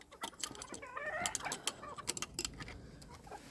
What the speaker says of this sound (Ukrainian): такі дуже вредні кури вони